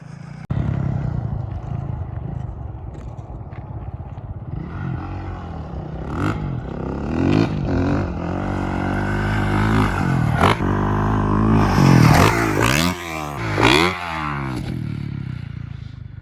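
A dirt bike engine on desert trails in Arizona, revving and accelerating through repeated throttle surges with rising and falling pitch, fairly close and loud, alongside clattering and scraping from the rough ground, with no talking.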